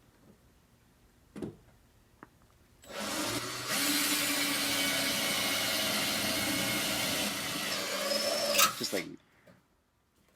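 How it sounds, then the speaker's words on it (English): A power drill whirs steadily for several seconds, loud and close, then winds down; a brief voice is heard before it starts. "I'm having trouble with my drill bit again"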